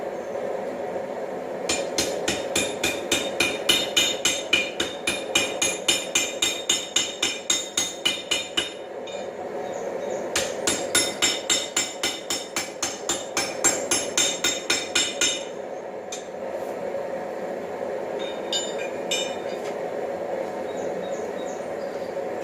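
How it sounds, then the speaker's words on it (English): Rapid, rhythmic metallic hammer blows knocking scale off hot steel while forging tongs, two long bursts of ringing strikes separated by a short pause, close and loud. "Knock excess scale off."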